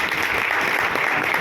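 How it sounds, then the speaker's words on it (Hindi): Audience at a seminar breaks into loud, dense applause, a continuous close clatter of many hands sustained throughout with no speech over it. "सब लोगों के लिए एक जोरदार ताली।"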